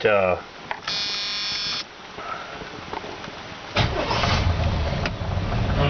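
Van engine with a carburetor and swapped spark plug wires cranks with a buzzing starter, then catches and runs with a loud rough roar near the end.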